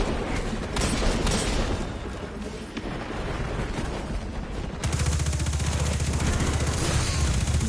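Gunfire from a gun in the video game Demon's Souls, dense rapid shots and booming blasts that grow louder and more sustained toward the end, heard without talk.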